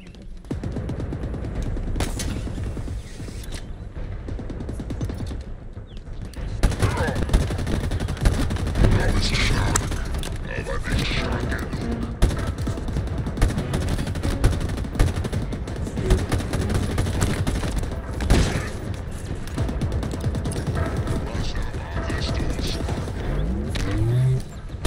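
Gunfire from the video game Halo Infinite rattles through as dense rapid bursts and single shots with booming impacts, continuous and loud across the whole stretch of play.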